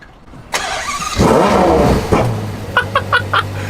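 A Ferrari GTC4Lusso V12 fires up with a sharp starter catch, flaring into a loud rev that settles to a steady idle hum, followed by a few quick blips of the throttle, close by and with no talk over it.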